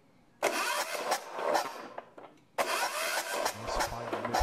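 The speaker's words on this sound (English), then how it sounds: "So what I'm going to do is crank here and watch what happens." A diesel generator engine being cranked during a fuel injector check, two loud sustained bursts of starter churning and engine clatter separated by a brief pause, close up with no talk.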